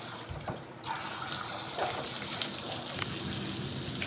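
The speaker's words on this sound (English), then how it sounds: "By cupping your hands, it makes the water go where you want it" Water gushes steadily over a Yorkshire terrier mix during a bath, scooped and poured with cupped hands, a close continuous splashing with a few brief spills and drips.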